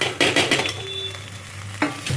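Onions and chopped tomato sauté in a pan, several quick scraping stirs over a low sizzle, close and fairly loud, with a pause between strokes.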